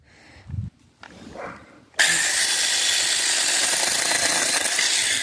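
A newly bought power saw bites into wood, starting abruptly after a couple of seconds of faint handling noise and then running as a loud, steady, high-pitched cutting whine until the end.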